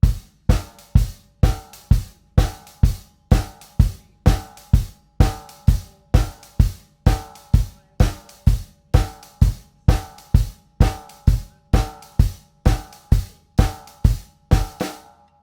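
A steady rock drum kit groove repeats for several bars, kick and snare alternating under a constant hi-hat pulse, close and clear with no other sounds.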